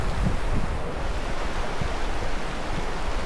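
A wide river rushes steadily near Belwadi waterfall, a dense, unbroken roar of churning water heard close and fairly loud throughout, with no voices.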